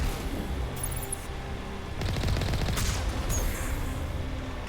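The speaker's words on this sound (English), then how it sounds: "Who's shooting at me?" Gunfire in the Mass Effect video game: bursts of rapid shots and impacts crackle over game ambience, denser in the second half, with no one speaking.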